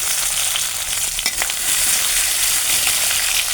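Five-spice, ginger paste and chopped tomato fry in hot oil in a home kitchen while dal with cauliflower is being made, giving a steady close sizzle with a few stirring scrapes and no voices.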